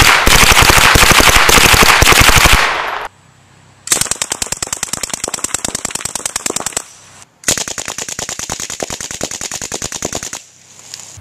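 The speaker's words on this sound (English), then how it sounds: "We're going to do the Sten now with a SWR Trident 9 suppressor." A Sten Mk 2 submachine gun fitted with an SWR Trident 9 suppressor fires full-auto 9mm in three loud, close bursts, each a rapid stream of sharp reports with brief pauses between.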